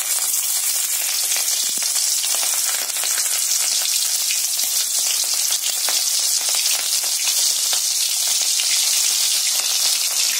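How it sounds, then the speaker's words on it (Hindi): Marinated prawns deep fry in hot oil, a loud, dense, continuous crackling sizzle close up that holds steady throughout with no voices. "अभी हम इसको डीप फ्राई करेंगे।"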